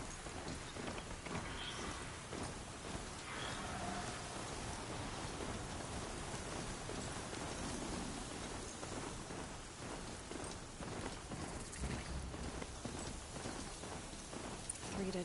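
Steady rain falls during a storm in Horizon Zero Dawn Remastered, a dense, even hiss of drops that stays loud and unbroken throughout, with no one talking.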